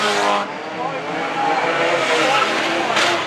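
Stock cars race around the pit bend of Arlington Stadium, a loud continuous engine roar with tyre scrub as the cars jostle and nudge, while a commentator talks over the noise.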